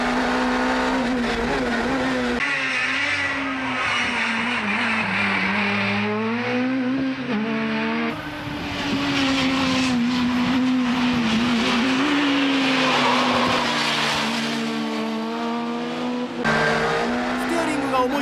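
Mine's Nissan Skyline GT-R R32 races at Ebisu, its engine roaring loud and close with continuous revving that climbs and drops through gear changes, with tire noise and a Japanese commentator talking over it.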